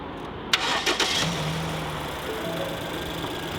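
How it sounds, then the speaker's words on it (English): A car engine cranks briefly after a battery booster pack jump, catches and fires up, then settles into a steady idle hum nearby. "If this is simply a battery, this car is going to turn over right now."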